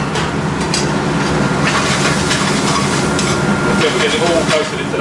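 Baby corn and green beans are stir-fried in spice in a pan, making a loud, continuous close sizzle with scraping stirs. A person talks over it.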